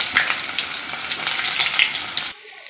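Sliced onions sizzle steadily in hot oil in a pan with popped mustard seeds for an amara payar and parippu thoran, a loud continuous frying hiss that cuts off abruptly near the end.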